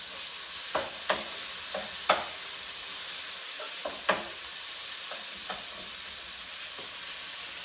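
Pork sizzles steadily in a pan for a stir fry, with a constant hiss of frying broken by several sharp scrapes and clinks as a utensil stirs the meat.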